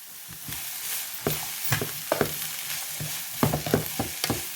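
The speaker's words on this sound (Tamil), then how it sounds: "எல்லாத்தையும் கலந்து விடுவோம் இப்போ நாங்கள் இது கொஞ்சம் உப்பு போடணும்" A spoon stirs a vegetable stir-fry with salt in a pan, giving repeated scraping clicks over a soft, steady sizzle.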